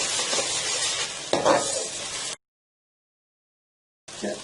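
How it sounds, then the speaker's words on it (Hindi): Garlic-ginger paste frying in a pan before minced meat (keema) goes in, a close, steady hiss with scraping stirs, then a sudden cut to silence and a brief burst of sizzling again. "इसको 1 मिनट इसमें फ्राई करने के बाद हम इसमें कीमा डालते हैं"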